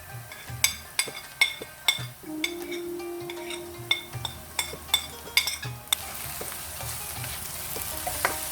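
Spiced okra being stirred in a frying pan, a steady sizzle running underneath while a spoon scrapes and clinks against the metal in a regular rhythm, about once a second, close and moderately loud, with no talking.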